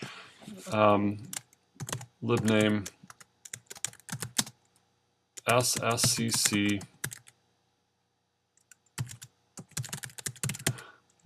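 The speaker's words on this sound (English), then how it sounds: "And we can just start typing here." Typing on a computer keyboard, with bursts of quick key clicks in clusters separated by pauses, close and clear, while someone talks over parts of it.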